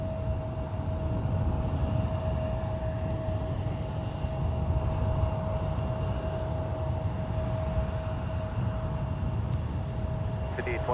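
A United Boeing 777-200 takes off from San Francisco International Airport, its engines a loud, sustained roar with a steady high tonal whine, carrying continuously from start to finish.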